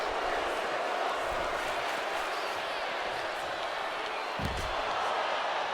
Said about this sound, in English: This crowd chanting, this is awesome.